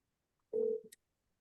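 A single phone tone sounds through a speakerphone as a listing agent for a real estate company is called: one steady buzz lasting about half a second, with a brief high click at its end, then silence.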